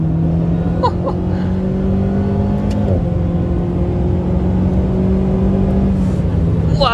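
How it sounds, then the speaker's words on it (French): Go-kart engine revving hard while driving, a loud steady drone with rising and falling pitch that runs continuously through the whole stretch, with brief faint voice sounds. "C'est vraiment un karting, c'est un truc de fou."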